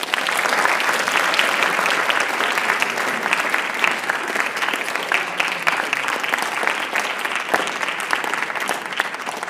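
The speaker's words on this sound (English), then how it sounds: "All right, go ahead and clap." An audience applauds at a writers expo, sustained clapping from a sizeable crowd with crisp individual claps standing out, loud and steady for nearly ten seconds and easing only slightly near the end.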